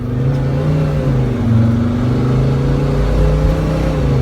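A Mercedes Sprinter van with its muffler cut off revs loudly as it accelerates hard from a stop, a close, rising turbocharged engine drone that holds for several seconds without speech.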